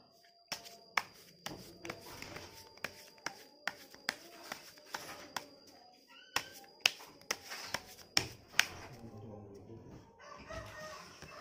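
Tarot cards being shuffled by hand, a steady series of crisp card slaps and riffles at close range, repeating roughly every half second with faint room noise.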